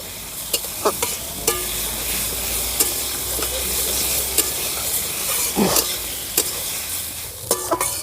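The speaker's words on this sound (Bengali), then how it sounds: "সর্ষে শাক এভাবে আস্তে আস্তে করে জাল দিতে হবে আর এভাবে রসটাকে টানাতে হবে" Mustard greens frying over low heat in a pan, with steady broadband sizzling and repeated scraping, clattering stirs of a utensil against the metal, no voices.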